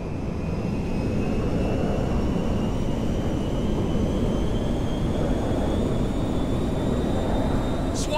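A jet plane in Grand Theft Auto V roars with a steady, loud broadband rush and a faint rising whine on top, continuous and close for the whole stretch with no talk.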